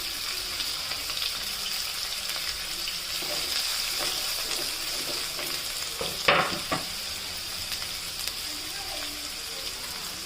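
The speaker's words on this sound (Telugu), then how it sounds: "ఇప్పుడు అదే ప్యాన్లో ఆయిల్ వేసుకొని ఒక టూ మీడియం సైజ్ ఆనియన్స్ ఒక ఫోర్ ఫైవ్ పచ్చిమిర్చి కరివేపాకు అన్నీ కట్ చేసుకొని వేసుకోవాలండి" Onions, green chillies and curry leaves frying in oil in a pan give a steady, fairly quiet sizzle with a few stirring scrapes, a brief louder clatter in the middle, and faint talk at times.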